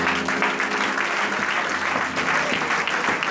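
A church congregation claps steadily and energetically for the Lord, a dense sustained applause from a crowd filling the room.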